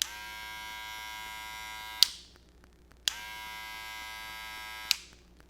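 Wahl 5 Star Senior cordless hair clippers hum with a steady close buzz, switched on twice with sharp clicks and a brief quiet gap between the two runs.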